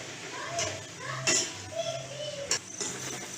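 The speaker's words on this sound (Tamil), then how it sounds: "இதையும் போட்டுட்டு நல்லா கிளறி விடணும்" Soaked puffed rice being stirred into a pan for pori ugarni, with scattered spoon clinks and scrapes against metal and a faint sizzle, close by, while a voice talks intermittently.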